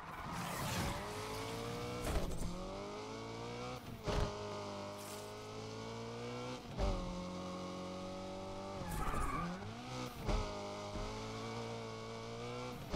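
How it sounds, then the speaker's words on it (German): In the Need for Speed Unbound video game, a drifting car's tires screech in long repeated skids while its engine revs and shifts between slides, loud and close, with no voices. "Hat er es nicht zum Driften gemacht?"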